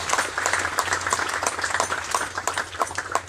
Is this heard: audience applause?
yes